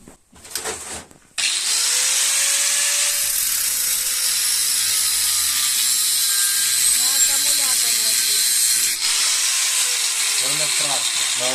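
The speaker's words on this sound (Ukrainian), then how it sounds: "Тепер беремо обичну болгарку та що на проводі." A corded Dnipro-M angle grinder whines loudly and steadily after a short burst of handling noise, its pitch dipping slightly as it bites into material.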